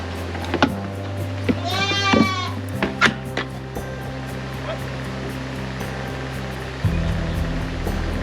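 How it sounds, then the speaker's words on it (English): A young bottle-fed goat on a LaMancha and Nigerian Dwarf dairy farm gives one wavering, clear bleat up close, followed by clanks and thumps over a steady low machine hum, with speech nearby. "Talia is one of our bottle baby goats"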